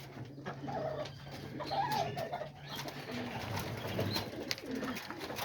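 Homing pigeons coo softly at feeding time, low rolling calls close by over a rustling background, with a few faint bird sounds and brief taps mixed in.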